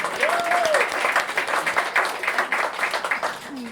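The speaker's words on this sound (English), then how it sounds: "Nice round of applause for them." A bar-room audience at a Nature on Tap talk claps for the Thirsty Giraffe hosts, a steady burst of applause with a brief whistle and a few voices rising within it.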